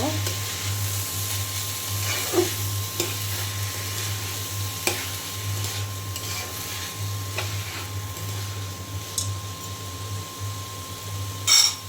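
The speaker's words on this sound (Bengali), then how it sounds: "ঘি দিয়ে আমি চালটা ভাজবো" Rice frying in ghee and oil in a pan for pulao, a steady close sizzle with occasional stirring scrapes and clicks under a constant hum, no talk.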